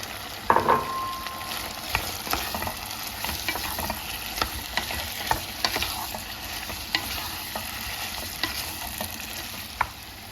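Meat and tomato paste sizzle in a pan with a steady frying hiss for a meat and dry bean dish, while a spoon stirs and scrapes with repeated clicks and knocks. The sound is close and continuous, with no talking.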